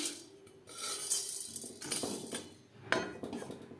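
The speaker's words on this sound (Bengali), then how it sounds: "আরও অনেক মশলা লবঙ্গ শুকনো খোলায় হালকা করে ভেজে নেব" Whole spices such as nutmeg, cinnamon, cardamom, star anise, peppercorns and cloves stirred in a dry hot pan, close clinks and scrapes of metal against metal, steady and moderately loud.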